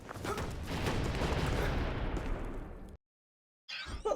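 Cannon bombardment in the video game The Last Faith: a dense rolling barrage of booming blasts for about three seconds, then sudden silence before another burst of impacts begins.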